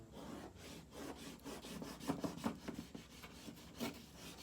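Crayon rubbed back and forth across paper in a classroom art demonstration, a steady scratchy rasping in repeated strokes, close and moderately loud with no talking.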